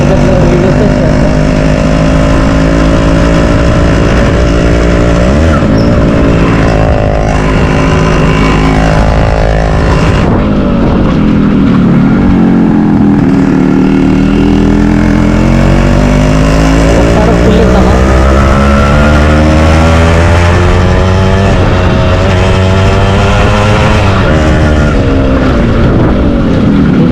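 A Yamaha RX 100 motorcycle is ridden and pulls hard, its engine loud and close. The engine note climbs and falls through repeated rises in pitch while a rider talks over it.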